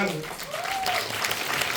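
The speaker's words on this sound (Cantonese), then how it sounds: "大家再俾一個熱嘅掌聲。" Audience clapping at a fan club screening and sharing session, a brief steady wash of applause with a voice speaking over it.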